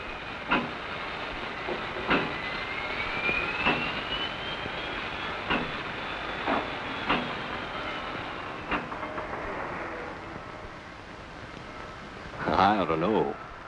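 Norfolk and Western freight cars coupling in a 1963 railroad scene, repeated sharp metallic clanks spaced a second or two apart over rolling wheel noise and hiss, ending with a louder clatter.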